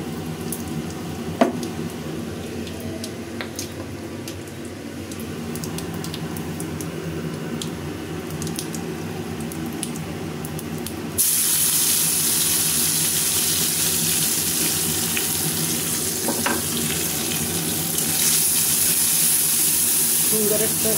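Cumin, garlic and onion fry in oil with a soft bubbling sizzle and occasional stirring clicks, the sizzle jumping louder midway as more goes into the pan.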